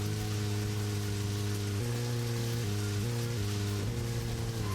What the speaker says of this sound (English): Of course the rain shows up in the story now to taunt me